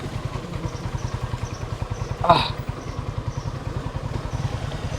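A motorcycle engine idling nearby on the street, a steady low rapid chug pulsing evenly throughout, with one brief louder clatter in the middle and no talking.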